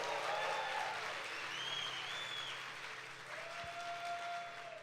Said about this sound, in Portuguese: dê um aplauso bem forte ao Senhor Jesus.